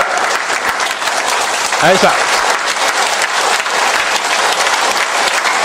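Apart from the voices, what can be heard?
audience applause after meditation session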